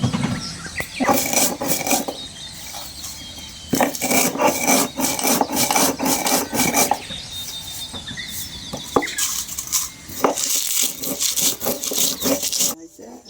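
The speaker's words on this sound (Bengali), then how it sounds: "জিরাটা আমি এখন শিলে বেটে নিচ্ছি দেখুন" Cumin seeds are ground on a stone grinding slab (shil) with close, rough, rhythmic scraping and rubbing strokes that continue steadily throughout.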